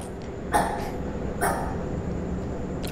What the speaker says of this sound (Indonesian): Menggonggong dia